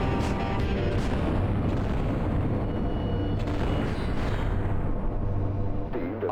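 Sustained video game gunfire in a chaotic battle, a dense continuous barrage of shots and booms that stays loud throughout without any clear pauses.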